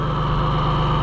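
John Deere 1020 three-cylinder diesel tractor engine running smoothly, a close, steady low idle with an even rhythmic throb and no other sounds.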